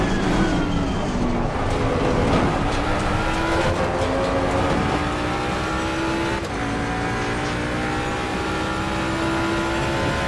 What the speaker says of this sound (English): Faster cars approaching.